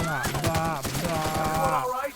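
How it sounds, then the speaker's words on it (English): Rapid gunfire bursts from a weapon fired at bugs in the video game The Outer Worlds, a steady stream of quick shots over a tonal game soundtrack, with no talk over it. "Shooting the bugs."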